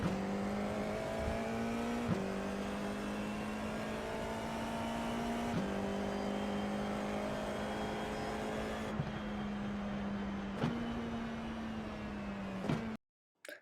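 A Formula IR-04 race car lapping Laguna Seca in the iRacing sim gives a loud, buzzing, high-revving engine note with sharp upshift and downshift breaks every couple of seconds, and it cuts out abruptly near the end.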